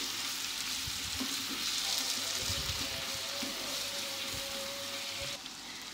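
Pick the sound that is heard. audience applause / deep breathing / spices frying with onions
spices frying with onions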